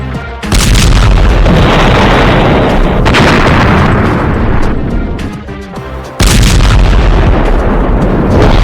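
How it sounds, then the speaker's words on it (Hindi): A massive, deafening explosion blowing up a bulldozer used for clearing landmines, followed by a sustained roaring rumble, then a second powerful blast, all very loud and close. "हमास के लड़ाके इजरायल के उस बुलडोजर को धमाके से उड़ा रहे हैं"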